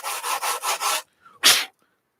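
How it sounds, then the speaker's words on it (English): Sanding a plastic model kit, the Leprechaun, by hand: five quick rhythmic back-and-forth rasping strokes close by, then a pause and one final louder scrub that trails off into quiet. "Doing a little last minute sanding."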